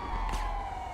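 An ambulance siren in the video game GTA Online, a sustained steady electronic tone held over a low engine rumble, with a brief whoosh partway through.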